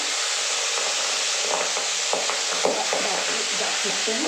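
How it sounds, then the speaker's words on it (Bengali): Large fish pieces frying in hot oil give a dense, even crackling sizzle close by, with scattered sharper pops and spits throughout, no voices. "মাছটা ভাজতে শুরু করি"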